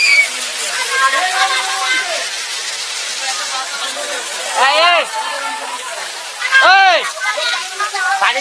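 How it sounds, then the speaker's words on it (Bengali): Water from a waterfall rushes and splashes steadily up close, with voices talking over the continuous flow. "দেখুন ঝর্ণার জল গড়িয়ে গড়িয়ে পড়ছে"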